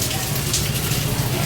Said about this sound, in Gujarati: કેટલો વરસાદ છે તો.